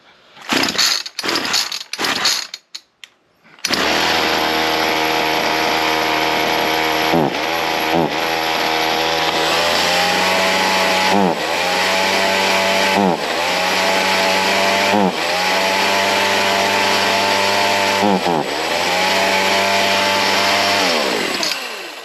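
A Ryobi C4618 chainsaw engine runs steadily close up, its two-stroke drone dipping briefly every couple of seconds as the idle speed is adjusted, after a few short sputtering starts.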